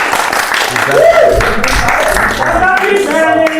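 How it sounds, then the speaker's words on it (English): Studio podcast crew gives a brief round of clapping for the production man, a short patter of hands under ongoing talk and laughter. "Let's just give him a real clap with that"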